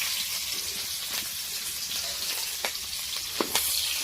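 Ingredients sizzle steadily in hot oil in a home kitchen pan, a constant crackling hiss with occasional sharper pops and spits standing out near the end, no voices over it.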